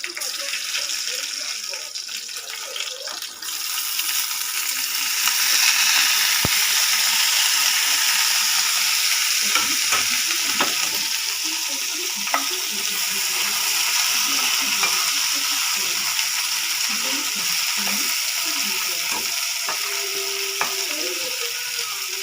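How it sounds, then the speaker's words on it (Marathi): Okra pieces drop into hot oil with mustard seeds and curry leaves, setting off a steady close sizzle dotted with small pops and crackles, and a voice speaks briefly over it. "हे बघा, मी भेंडी टाकते याच्यामध्ये एक एक."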